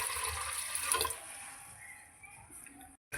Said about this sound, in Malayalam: വെള്ളം ഒഴിച്ചിട്ട് നല്ലോണം കഴുകിയെടുക്കാം.